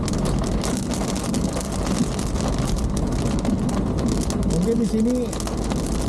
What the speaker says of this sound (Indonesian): hujannya dari kaca depan sih yang lumayan kencang gitu ya